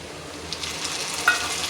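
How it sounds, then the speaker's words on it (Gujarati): Tomatoes hit a hot frying pan with onions, producing a brief, loud, steady hiss of sizzling with small crackling pops. "ટમેટા નાખીને એટલે પાણીનો અવાજ આવતો હશે."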